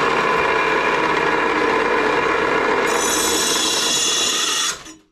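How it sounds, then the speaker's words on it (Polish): An angle grinder runs loudly and continuously, its harsh whine shifting higher near the end before it cuts off abruptly, with no talk. "Ta szlifierka jest bardzo głośna"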